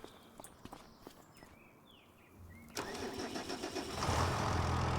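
Second-hand tractor engine on a Scottish farm cranking and catching partway through, then settling into a loud, steady mid-pitched running rumble that builds in the final second, preceded by quiet shuffling and footsteps.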